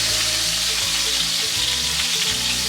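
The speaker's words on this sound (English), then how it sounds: "what you're looking for here is a nice sear." A stuffed boneless whole chicken, chicken galantine, sears in a hot pan with a steady, loud, continuous sizzle and frying crackle, close up and without talk.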